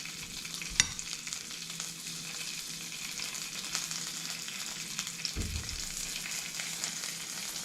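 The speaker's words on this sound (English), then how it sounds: "Then it's going to the pan, we're gonna sear it." Sesame-coated wahoo sears in a hot pan, giving a steady, close sizzling hiss with a few sharp crackles and a brief clunk of the pan.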